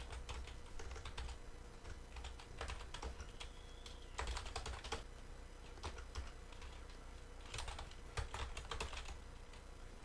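Fingers type on a computer keyboard, with quick clustered bursts of soft key clicks and brief pauses between them, quiet and close.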